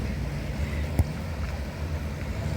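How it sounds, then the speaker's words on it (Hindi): Waves wash steadily at Railay Beach in Krabi, Thailand, with a low rumble of long-tail boat engines at sea blended into the surf, one brief knock near the middle. "ये लहरों की, थपेड़ों की आवाज़, लॉन्ग टेल बोट्स की इंजन की आवाज़"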